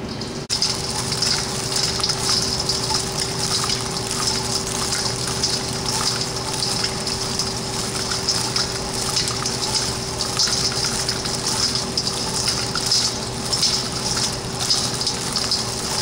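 An industrial tumbler spins corn puffs coated in slurry at high speed, giving a steady, loud, continuous rushing whir with a constant mechanical hum beneath it and no voices.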